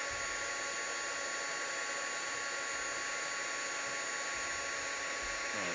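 A craft heat tool blowing hot air to set glitter embossing powder on cardstock for a Valentine's card, a steady whirring fan hiss with a faint high whine, constant and close.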